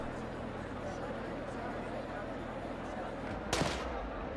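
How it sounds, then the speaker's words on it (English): Gunfire during an Italian street riot in the video game RIOT - Civil Unrest, a sharp single shot or burst standing out over a constant roaring crowd and battle din. "they're shooting at us now"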